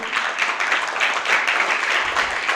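A school audience of students claps together in sustained, dense applause that stays steady and fairly loud without a break.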